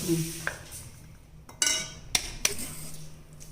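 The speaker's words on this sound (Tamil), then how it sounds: "ரெண்டு செட்டு அரைச்சி வச்சுங்க ஒன்றா போட்டு கலக்கிக்கலாம்" A spoon stirs ground pumpkin seed powder in a metal vessel, giving a few sharp, separate clinks and scrapes over a low, steady background hum.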